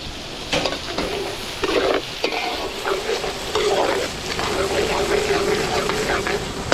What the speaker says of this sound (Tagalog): lulutuin lang natin bawang, sibuyas natin